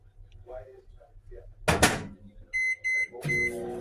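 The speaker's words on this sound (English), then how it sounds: "I'm just cooking up the bacon in the microwave at the same time." Microwave oven cooking bacon in a home kitchen: a low steady hum under soft talk, a sharp door clunk, then a few loud electronic beeps and a busy clattering rumble.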